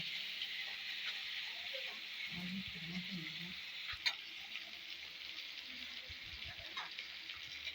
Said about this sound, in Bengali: এটা আলুগুলো ভেজে নেব